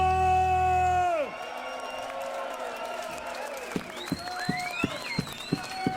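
Applause and cheering from a crowd at a live music set, broken up by sharp claps and whoops that follow a sustained chord fading out at the start.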